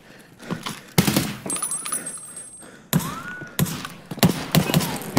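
Bursts of gunfire from Escape from Tarkov crack close and loud in several rapid volleys, with thuds and brief pauses between them and faint game ambience underneath.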